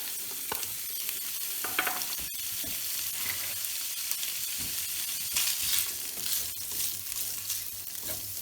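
Sausage sizzles and fries in a hot pan, a constant crackling hiss with scattered pops and occasional scrapes of stirring, loud and close with no talk.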